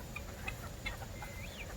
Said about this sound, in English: And there's the little turkeys.